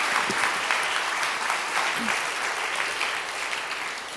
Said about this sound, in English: Round of applause for Rupert.